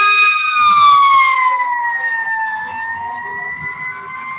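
An emergency vehicle siren wails loudly as it passes outside, its high tone sliding steadily downward as it moves away and fades a little, with no talking.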